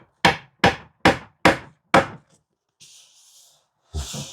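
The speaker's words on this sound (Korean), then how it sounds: "타카를 한두 방 쏘기 위해서" A staple gun drives five sharp, evenly spaced shots into a wooden 10-inch ScanSpeak 26W subwoofer box built for a Honda Odyssey car audio upgrade, each a loud close crack, followed by faint hissy noises.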